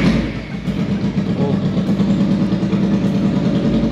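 A Kawasaki Ninja 300 motorcycle engine runs after a cold start with no exhaust fitted, giving a loud, raw, steady idle with a throbbing low rumble held throughout.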